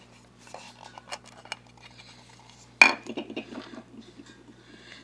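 An LED BR30 light bulb cover pried with a knife and twisted open, a sharp plastic snap followed by short scraping clicks and rattles, close and fairly quiet.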